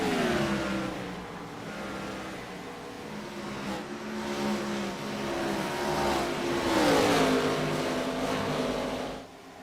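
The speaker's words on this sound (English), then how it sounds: "Listen to the rumble of these engines, man." Race car engines rumble and roar around Darlington Raceway during a NASCAR Cup Series race, a sustained loud drone of several engines with rising and falling pitch as cars pass, swelling toward the end before dropping off.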